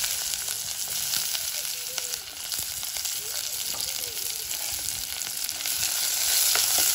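Onions frying in a village kitchen pan with fennel seeds for a Jaffna-style brinjal curry, giving a continuous dense hiss and crackle that swells slightly toward the end, close and steady.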